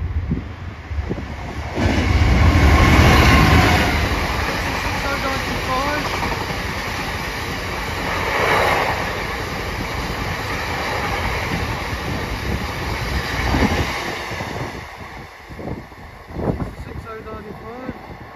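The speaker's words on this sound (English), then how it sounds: "another 66 coming through on platform number one" A British Rail Class 66 diesel locomotive rumbles through Chesterfield station on platform one, its heavy drone rising and fading with wind buffeting the microphone and a voice talking at times.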